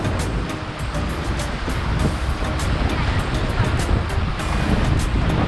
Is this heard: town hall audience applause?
no